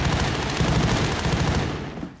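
Dense, continuous gunfire from the 1987 war film Full Metal Jacket, a loud sustained barrage of overlapping shots that fades slightly at the end.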